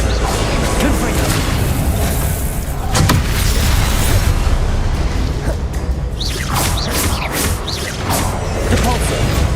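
The Confringo fire spell in the video game Hogwarts Legacy, loud booming blasts and crashes over a dense wash of combat noise and game music, with a voice calling out over the fight.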